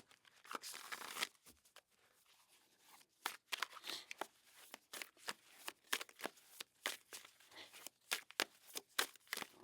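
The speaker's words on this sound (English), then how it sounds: "Let's shuffle up this deck here" A deck of tarot cards is shuffled by hand in a string of soft riffling, flapping bursts, irregular at first and then settling into a steadier rhythm, close and quiet, with no talking.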